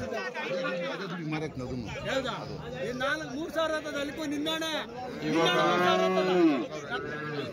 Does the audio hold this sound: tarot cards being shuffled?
no